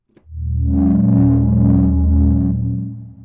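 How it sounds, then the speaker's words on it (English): A low, droning Serum 2 synthesizer tone with its distortion turned up swells in, holds steady with a gritty, buzzing edge, then fades away after about three seconds. "when I turn the distortion up, it just catches those peaks"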